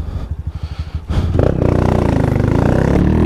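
A motorcycle fitted with a Fortuna Mini Turbo exhaust putters with a loping, pulsing idle, then revs up hard into a loud, raspy, sustained roar close to the microphone.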